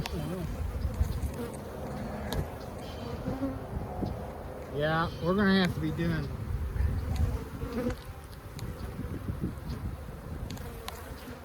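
A steady, dense drone of honey bees hangs over an opened hive during an inspection, the colony sounding agitated, with people speaking briefly close by over the constant hum.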